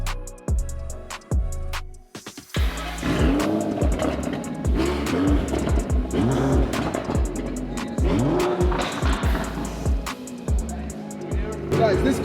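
A 2017 Aston Martin DB11, rebuilt after a wreck, runs close by. Its engine revs and roars in repeated loud bursts after a few sharp opening pulses, with no gaps between them.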